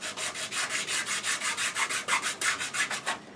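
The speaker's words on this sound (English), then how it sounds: "before we leave that, we're going to go ahead and sand it up just a little bit" A wooden wading stick handle being sanded on a woodturning lathe gives a steady, rhythmic rubbing rasp, about five strokes per second, close and alone with no talk.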